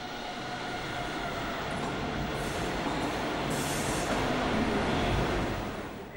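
Intercity train hauled by a DB class 101 electric locomotive at Cologne station, a steady loud rumble of rolling wheels and rail noise throughout, with no voices.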